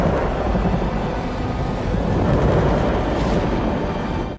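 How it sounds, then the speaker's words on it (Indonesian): A heavy thunderstorm: a steady, loud wash of pouring rain mixed with deep rolling thunder that rumbles continuously throughout. "sedang terjadi hujan dordar gelap disertai badai besar"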